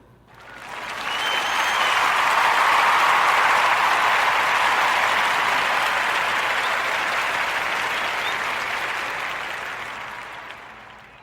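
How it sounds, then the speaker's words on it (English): Audience at a podcast show claps in sustained applause, swelling quickly to a dense, even roar and holding for several seconds before slowly tapering off. "join me giving these brothers, Jose and Adam, a warm narrative podcast round of applause for Slice Brothers Pizza"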